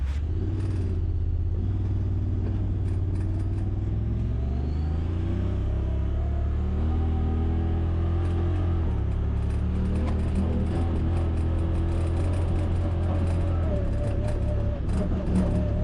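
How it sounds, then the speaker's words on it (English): 2024 Honda Talon 1000X-4 side-by-side driving in two-wheel drive, high range, its engine droning steadily while the automatic transmission shifts, with rising and falling revs and rattling mechanical noise throughout. "So you can hear the transmission doing shifting for us"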